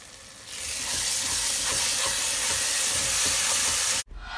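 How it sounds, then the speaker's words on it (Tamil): Masala sautéing in oil for a mixed vegetable kulambu, a steady loud sizzling hiss that starts abruptly and holds, then cuts off sharply near the end. "மசாலா போட்டுட்டு நல்லா வதக்கிடணும். நல்லா பச்சை வாசனை போகிற அளவுக்கு நல்லா வதக்கணும்"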